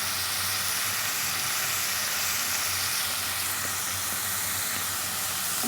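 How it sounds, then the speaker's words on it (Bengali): Onions fry in oil in a pan, giving off a loud, continuous sizzling hiss that holds steady throughout. "তো এইভাবে আমি ভালোভাবে ভেজে নিচ্ছি"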